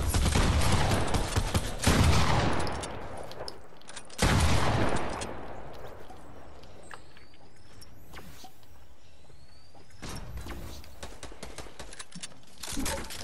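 Video game gunfire: loud bursts of rapid shots that come and go, separated by quieter mechanical clatter and movement, with a few shot clusters returning later.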